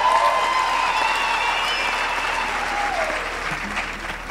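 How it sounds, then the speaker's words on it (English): Audience applause for a choir at a university graduation ceremony, a dense, steady wash of clapping from a large crowd that carries on loudly and evenly throughout. "I'm sure they deserve yet another round of applause"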